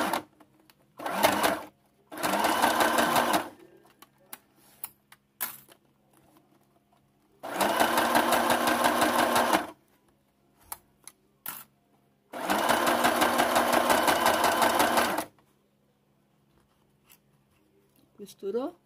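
Sewing machine stitching fabric for a mask holder, running in three loud bursts of steady rapid stitching separated by pauses with small handling clicks, near and clear.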